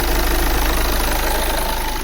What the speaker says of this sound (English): It's still shaking a bit, but of course this is diesel, but it's better.